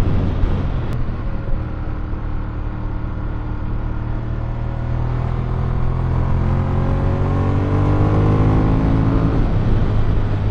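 Ducati Monster 1200 S motorcycle engine running loud and steady at high RPM during a test ride, its rising harmonic whine sweeping upward continuously over a constant low rumble.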